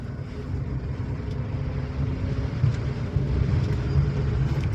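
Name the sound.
car engine accelerating while driving in city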